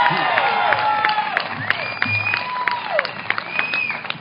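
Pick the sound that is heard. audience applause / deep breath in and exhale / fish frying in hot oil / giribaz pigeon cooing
audience applause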